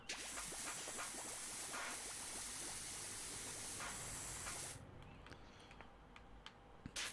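A pressure washer in the video game PowerWash Simulator sprays a car in a steady, faint hiss that cuts off abruptly near the end, followed by quiet ticks.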